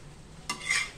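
A methi paratha roasts on a pan with oil, a quiet background hiss that swells into a brief, close sizzle and scrape as it is pressed or turned, no voices.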